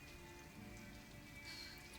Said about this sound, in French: Il pleut et tout, c'est froid.